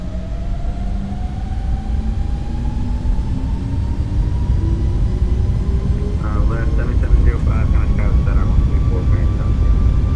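Simulated 737 MAX jet engines in a flight simulator spool up to takeoff power, a rising whine climbing steadily over a deep roar, with a voice speaking over the top near the end.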